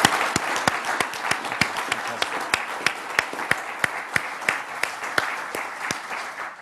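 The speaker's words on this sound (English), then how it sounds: "I think we should just give Nigel a quick round of applause" A small lecture audience gives a quick round of applause, with sparse distinct claps standing out over a softer spread of clapping that tapers off.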